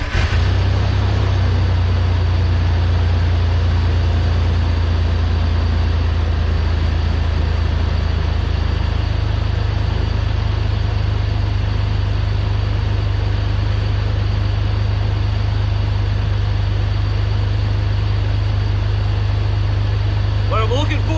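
A Jeep Wrangler LJ, fitted with a newly replaced idler pulley after a failure from off-road miles, idles steadily and loudly up close with a deep continuous rumble for the whole span.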